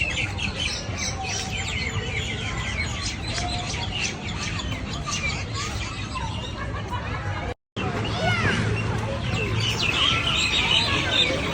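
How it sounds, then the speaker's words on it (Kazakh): Birds chirp and squawk in a lively outdoor chorus during a wedding gathering, many overlapping calls and trills under a constant murmur of people chatting nearby, with a brief dropout midway. "Мұнда құстар сайрап жатыр."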